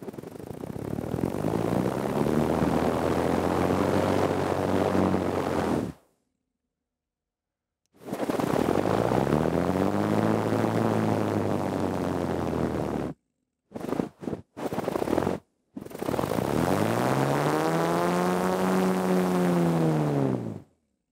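A small, nearly massless spinning device, set whirling with a pipette, gives off a loud humming whir whose pitch slides downward as it slows. The whir comes in long bursts broken by silent gaps and brief stutters.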